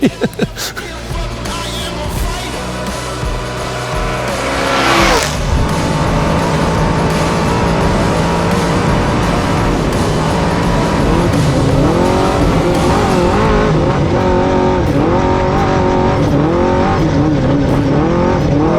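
A race truck drives slowly around a dirt track, its engine droning loud and close with rising and falling revs, and a brief scrape of tires sliding near the start.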